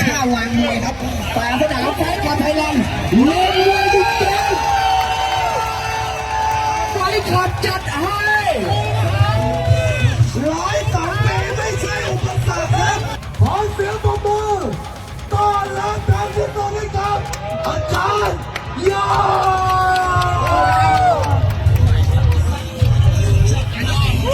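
Supporters of a Thai boxing-style showdown in Pathum Thani whoop, yell and clamour as a dense crowd, sustained bursts of cheering rising over the hubbub with a voice speaking through it.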